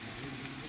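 Food hits hot oil, giving a brief, steady, hissing sizzle that is fairly quiet and continuous with no voices.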